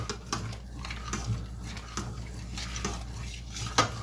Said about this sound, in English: Now over here, we're going to stir our pasta again,